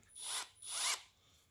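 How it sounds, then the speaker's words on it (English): A power drill driving a tap holder to cut threads in a Ford FE big block engine during a Lock N Stitch crack repair, two short whining bursts of the turning drill, close and fairly quiet. "I take the tap holder and I'll put it in a drill once you take the handle out of it"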